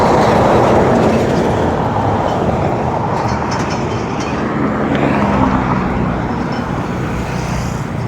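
Traffic roars steadily along a wide five-lane road while someone waits roadside for a tricycle, a loud continuous rumble of passing vehicles close by with no breaks and no talking.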